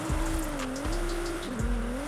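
A Nissan GTR R35 drifting in Forza Horizon 5, its engine note rising and falling through a sustained tire squeal, with a few quick downshift dips and revs.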